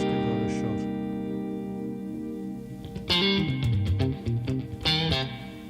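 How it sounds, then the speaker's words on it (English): Electric guitar through a reverb effect with a hold setting, filtered and chill: sustained chord tones ring and hang under the notes, then picked notes and chords enter loudly with a long washy tail. "Can we do something with the hold on the reverb?"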